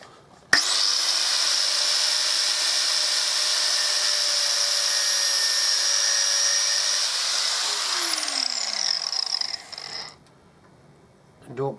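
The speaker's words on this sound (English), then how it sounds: "I'll put my airline on the other end and blow air through just to clear any dust out that's got inside" Compressed air from a workshop airline hisses steadily through a Harley Davidson Deuce trike part to blow out dust, a loud continuous blast near the mic lasting about nine seconds before cutting off.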